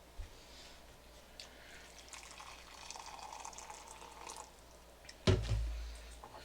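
Boiling water is poured into a cooking vessel in a soft, faint trickle that goes on for several seconds, ending with a louder clunk and splash.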